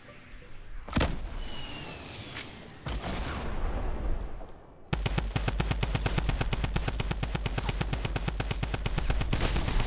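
Gunfire in the Fortnite Battle Royale video game: a couple of sharp isolated shots, then a rapid, evenly spaced burst of automatic fire hammering on for several seconds, loud and close.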